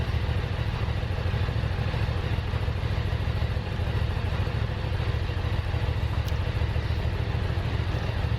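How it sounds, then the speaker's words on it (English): A Ducati Monster 800 motorcycle engine, not run for four years, idles steadily while warming up, a constant close low rumble with a light mechanical clatter and no talk. "it gives the bike a chance to warm up"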